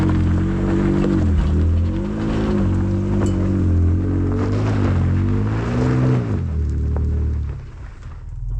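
Ford Ranger Raptor pickup climbing a hill in two-wheel-drive high range with the rear differential locked, engine droning steadily with rising and falling revs, then easing off near the end.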